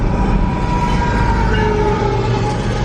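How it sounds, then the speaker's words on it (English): Loud train rolling past on the railroad right beside the listener, a steady heavy rumble with clattering wheels and faint squealing tones throughout. "I love the sound of the train."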